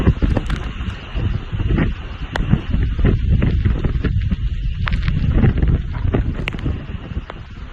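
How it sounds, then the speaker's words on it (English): Hurricane Dorian winds gusting through trees in Charleston, South Carolina, a loud continuous roar of wind with microphone buffeting, rushing leaves and brief crackles swelling and fading. "There's a gust coming through, making that tree dance."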